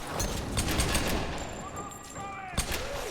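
Rapid gunfire bursts from a Tomb Raider firefight, dense overlapping shots with a sharp crack near the end and tonal game effects mixed in, loud and close throughout.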